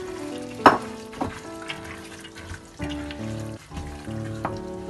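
Nuts are mixed into a batter for a brandy fruit Christmas cake, heard as close, wet stirring strokes with a few sharp clinks against the bowl.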